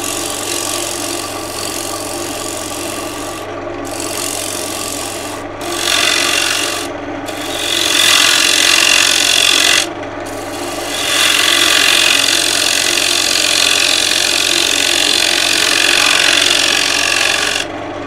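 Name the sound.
turning a walnut bowl on a lathe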